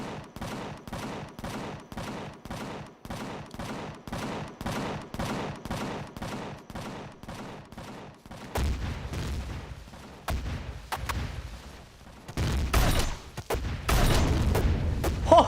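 Gunfire in the game Empyrion - Galactic Survival: a steady, evenly spaced train of loud shots for several seconds, then irregular bursts and heavier booming blasts toward the end.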